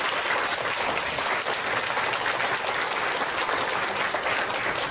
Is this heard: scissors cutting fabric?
no